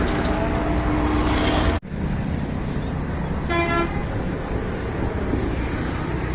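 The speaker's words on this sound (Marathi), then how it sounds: "वंदे भारतचं इंजिन जोडलंय आणि पुढे प्रस्थान करते रेल्वे" A steady, heavy rumble of a departing train with a Vande Bharat engine, with one short horn blast sounding partway through.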